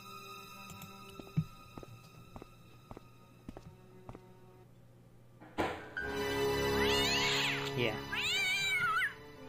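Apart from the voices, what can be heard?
cat meowing in video game Broken Sword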